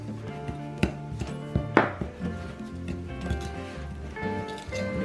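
A spoon mixing brown sugar and vanilla into mashed sweet potato casserole in a bowl: soft, wet knocks and scrapes at an uneven rhythm, close and fairly quiet, with a few sharper taps against the bowl.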